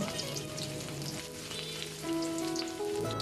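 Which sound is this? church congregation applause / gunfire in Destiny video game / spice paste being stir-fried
spice paste being stir-fried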